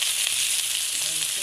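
Eggplant frying in hot oil in a pan, with steady bright sizzling that holds close and loud throughout.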